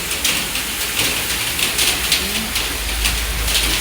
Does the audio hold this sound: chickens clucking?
no